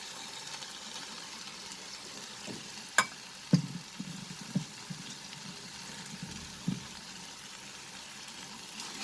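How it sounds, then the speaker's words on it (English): Crumbled paneer frying with cooked tomatoes in a pan for paneer bhurji: a soft, continuous sizzle with a few sharp clacks and scraping knocks as the mixture is stirred, fairly quiet and with no talking. "So now I will add the crumbled paneer."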